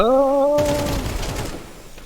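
Counter-Strike gunfire erupts as a sharp burst of rapid shots right after a tonal game sound, loud and close, then dies away within a second.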